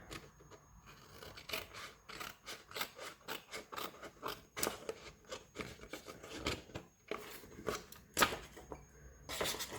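Scissors snip and rasp through paper in quick, irregular cuts, close by and fairly soft, with brief pauses between strokes.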